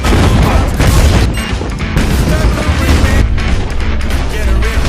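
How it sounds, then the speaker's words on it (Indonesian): Mines set off by a detonator explode in a film scene, a dense and loud barrage of booms and blasts that rumble continuously with crackling debris and no pauses. "Cooper yang langsung menekan detonator untuk meledakkan semua ranjau yang ada di sana"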